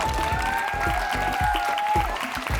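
Audience applause at a school cooking-game duel, a steady wash of clapping filling the whole span beneath tonal background music.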